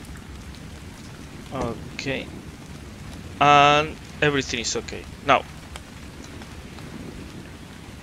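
Steady rain falls in the video game ARK, a constant broadband hiss running the whole way through, with someone talking briefly over it.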